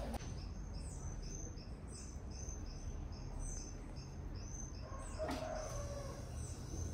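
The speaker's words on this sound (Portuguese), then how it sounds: "Os galos." Roosters crow from neighbouring yards, faint and distant, over a steady chorus of crickets, with one nearer crow about two thirds of the way through.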